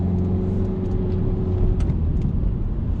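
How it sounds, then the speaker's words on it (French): A car engine rumbles and pulls steadily during a driving lesson as the car accelerates and shifts into third gear, giving a continuous mid-pitched drone heard from inside the cabin with no talking. "On accélère et on met la 3."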